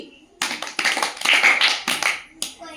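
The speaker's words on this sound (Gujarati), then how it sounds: "પેલા સાંભળવાનું પછી તાળી પાડવાની" Classroom hand clapping during a Gujarati spelling game, with children clapping when a word contains certain letters; several bursts of close, loud claps in uneven runs, with a short pause before a final clap.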